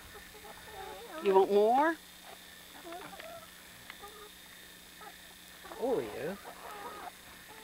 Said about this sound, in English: There them chickens is.